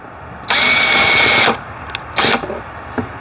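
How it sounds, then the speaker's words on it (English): A power drill whirs at high pitch for about a second, drilling holes in a plastic bucket, then gives two short bursts, with a faint tap at the end. "I'm just going to drill a handful of them"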